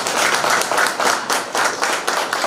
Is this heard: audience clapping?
yes